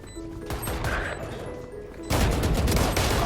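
Gunfire in the video game Valorant, a quick burst of shots that turns into sustained, loud firing in the second half, close.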